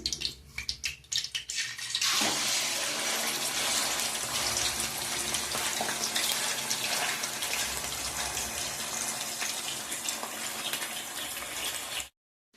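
Half a kilo of chicken pieces dropped into hot oil for a Telugu chicken pickle, erupting into a loud, sustained sizzle and hiss after a quieter start, then cutting off.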